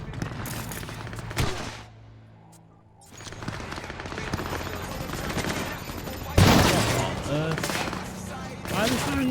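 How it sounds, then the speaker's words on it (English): Rapid bursts of gunfire crackle through a Cyberpunk 2077 firefight: loud volleys, then a brief lull, then heavier shooting with a sharp blast, while a voice talks over the action. "Why are they firing at me?"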